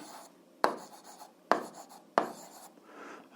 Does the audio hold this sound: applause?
no